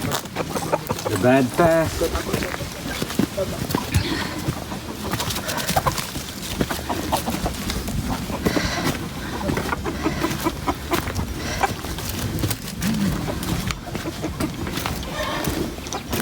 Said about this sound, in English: The hens are around.